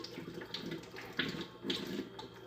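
Water runs from a tap in uneven splashy bursts, likely hitting something under the stream, fairly quiet and close with no talk.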